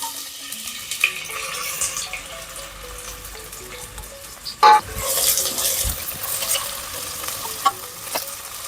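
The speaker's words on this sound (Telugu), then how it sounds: "ఇప్పుడు ఆయిల్ వేడైంది కదండి. మనం 3 పచ్చిమిర్చి, పెద్ద సైజ్ 2 ఆనియన్స్ యాడ్ చేసుకుందాం" Green chillies and large onions hit hot oil in a home kitchen pan for Telangana mutton curry, giving a steady sizzle and stirring scrapes, with a brief louder splash of frying midway and no talk.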